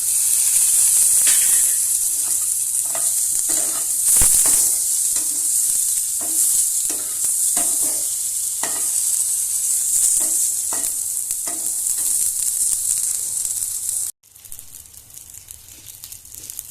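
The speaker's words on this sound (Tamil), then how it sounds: "இப்போ வந்து நம்ம ஃப்ரை பண்ணி வச்சிருந்த ஃபிஷ்ஷையும் ஆட் பண்ணிப்போம்." Pieces of fried fish are stir-fried in a pan with curry leaves, giving a loud, steady sizzle broken by scraping stirs and rustles. Near and alone, it drops abruptly near the end to a quieter sizzle.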